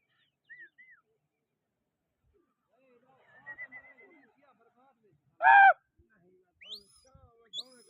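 Racing pigeons give scattered, faint chirping and whistling calls, then one sudden loud, close call, with more short calls trailing off afterward.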